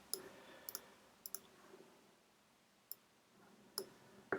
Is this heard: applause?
no